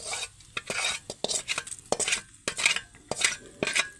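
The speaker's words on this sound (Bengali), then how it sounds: "আবারও হালকা হাতে এটাকে কিন্তু নাড়িয়ে নিতে হবে চারদিকে" A spoon stirs and scrapes through cooked dal in a metal pot with mustard oil, making repeated soft scraping strokes and light clinks in an uneven rhythm, close and moderately loud with no talking.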